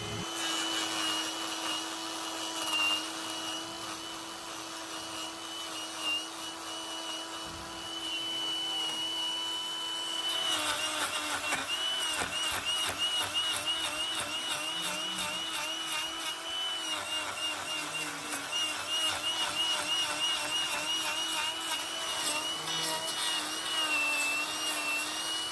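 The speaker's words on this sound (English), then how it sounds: "Now we're going to reduce all of this with the grinder." A hoof grinder whines steadily as it trims thick, overgrown horn from a cow's badly twisted hoof, a loud continuous motor drone with grinding rasp that rises when the disc bites in, no talk.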